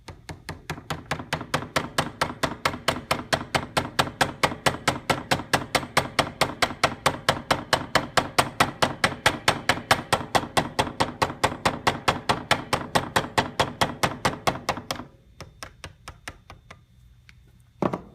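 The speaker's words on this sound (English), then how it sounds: "tap the shaft through, and most of the time it'll take the gear with it" Steady rapid tapping of a rubber mallet driving a spinning pump's shaft through while the pump rests on a vise, about fifteen seconds of evenly spaced close knocks, then quiet with a couple of faint clicks.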